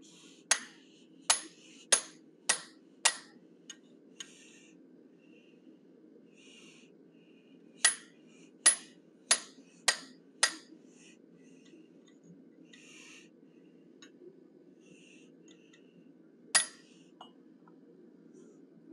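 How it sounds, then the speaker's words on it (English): A hammer strikes square steel stock over a 1/8 inch fuller at the anvil, ringing metallic blows in two clusters of five, then a lone hit later, sharp and bright with quiet gaps between. "knock the corners off of this square stock, radius them up a bit, using the 1/8 inch fuller, diagonally across the corner"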